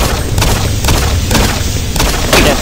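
Gunfire from the video game Doom 3, a rapid series of booming shotgun blasts repeating about every half second, loud and continuous over a noisy game soundtrack.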